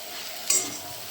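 Water spinach fries in a pan with a soft, steady sizzle, a short brighter hiss of stirring rising briefly midway through the second-long moment.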